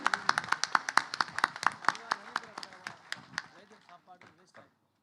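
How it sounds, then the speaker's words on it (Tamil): Scattered clapping from an audience at a centenary event honouring India's first woman leader, sharp individual claps in quick irregular succession that thin out and fade after a few seconds, with some voices underneath. "அரங்கம் நிறைந்த கரகோஷத்தோடு கௌரவப்படுத்துமாறு அன்போடு கேட்டுக்கொள்ளப்படுகிறது"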